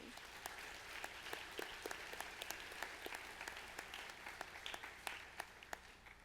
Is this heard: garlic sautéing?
no